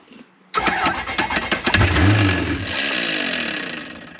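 A 1UZ V8 sterndrive boat engine with a faulty gearbox cranks and roars to life abruptly, then runs loud and rough with a grinding, labored tone, no voices over it.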